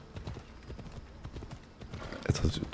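A horse's hooves clip-clop in a steady trotting rhythm in a video game, moderately quiet and continuous, with a brief louder burst near the end.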